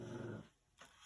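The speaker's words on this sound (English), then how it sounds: "My dog that is making all that noise is the dog that never makes any noise." A dog growls low and rumbling for a moment, then falls quiet before a short faint rustle.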